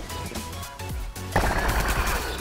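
Cartoonish plant gunfire in the Plants vs Zombies 2 3D video game: a dense run of rapid shots builds through the clip and gets louder and busier near the end, with faint background game sounds and no talking.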